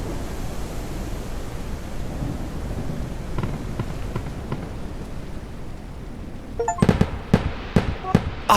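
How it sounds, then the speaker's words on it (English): Fireworks set off in the ranch-building video game Ranch Simulator: after a soft noisy stretch, several sharp cracking bangs burst in quick succession near the end, loud and close. "So I bought a bunch of fireworks like it was bonfire night"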